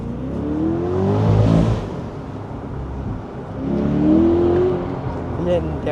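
A Chevrolet Corvette Stingray V8 revs twice, each loud, rising roar swelling and fading close by, with people talking over the engine.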